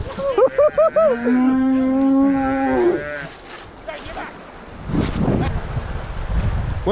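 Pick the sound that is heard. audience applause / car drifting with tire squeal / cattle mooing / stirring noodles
cattle mooing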